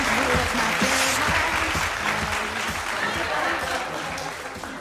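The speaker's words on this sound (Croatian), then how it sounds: "molim vas jedan veliki aplauz" Enthusiastic applause from an audience at an awards ceremony, loud dense clapping that starts at full strength and gradually thins, with a voice speaking over it.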